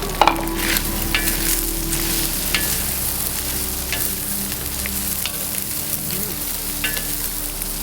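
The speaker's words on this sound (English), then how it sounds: "The veggies go in for 1 minute. It's a real quick saute." Vegetables for a black pepper chicken stir fry sauté in a hot pan on a Weber grill, a loud steady sizzle with occasional utensil clicks and scrapes, no voices.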